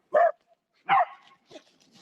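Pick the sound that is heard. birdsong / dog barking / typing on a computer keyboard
dog barking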